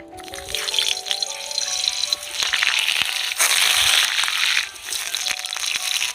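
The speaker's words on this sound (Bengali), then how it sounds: "এবার আমি আলুগুলো ভেজে নেব।" Potatoes frying in mustard oil in a wok give off a steady, close crackling sizzle with scattered sharp pops, rising to a louder burst midway before settling back; no one speaks.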